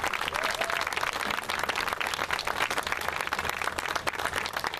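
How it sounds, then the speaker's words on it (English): A church congregation in St. Louis claps in a steady, moderately loud round of applause that fills the whole stretch, with no voice speaking over it. "I think we need to give them a round of applause"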